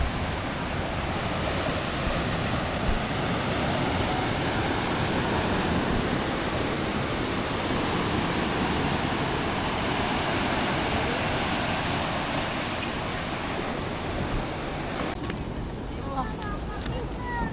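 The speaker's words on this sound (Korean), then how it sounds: "파도가 치는 밤바다" Ocean surf at night on Jungmun Beach, Jeju Island, roars continuously with a broad, rushing wash of breaking waves, steady and fairly loud throughout.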